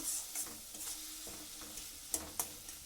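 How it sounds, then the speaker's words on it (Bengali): Spice mixture with softening tomato being stirred and sautéed in a pan for a spinach dish, a quiet close sizzle broken by occasional sharp spatula scrapes and clicks, with no talking. "একটু মশলাটাকে সব কিছু দিয়ে ভালো করে একটু কষিয়ে নেব"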